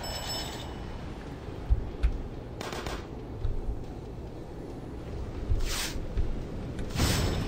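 Vehicle weapon fire in the racing combat video game Deadly Race, a few short bursts and bangs over a constant loud engine and game-music roar.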